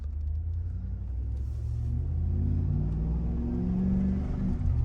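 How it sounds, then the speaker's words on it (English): A steady low engine rumble from inside the cab of a 2005 GMC Yukon with a Flowmaster cat-back exhaust, windows up, swelling slightly as the throttle opens pulling out of a driveway, with no one talking. "Kind of giving it decent little throttle out the driveway."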